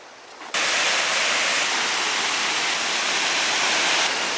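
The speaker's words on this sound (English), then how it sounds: "the view of the first waterfall is actually the best" Crowded waterfall near Pucón, Chile, a broad steady roar of falling water that surges in abruptly and stays loud and constant throughout, with no voices.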